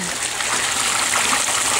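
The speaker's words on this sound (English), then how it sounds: "The gravity-fed water flowing down also helps oxygenate the tank." Gravity-fed water flows steadily down into an aquaponics fish tank holding tilapia, a continuous loud splashing trickle that stays constant throughout, close by with no talking.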